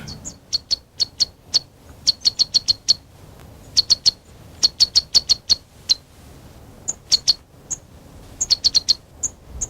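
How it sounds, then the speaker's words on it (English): A sunbird perched on the tall flower column of a giant lobelia in the Virunga highlands of Africa gives bright, high chirps, close and clear, in quick irregular bursts. "A sunbird sits on the 10-foot flower column of a giant lobelia"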